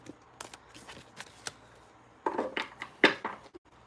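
Tarot cards are shuffled by hand, a series of soft papery riffles and flicks building to louder brisk bursts near the end, close and without talk.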